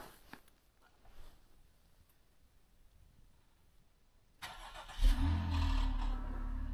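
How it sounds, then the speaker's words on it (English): A car engine turns over by remote start after a quiet stretch, catching at once and settling into a steady, close idle with a broadband rumble. "Now we gotta see if the car starts"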